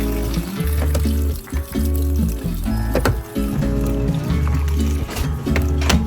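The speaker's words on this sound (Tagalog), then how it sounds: "pagkatapos nga saka naman namin bubuksan yung gripo" Tap water runs from a faucet through a hose into a washing machine, a loud continuous gushing rush with brief dips, overlaid with tonal background sounds.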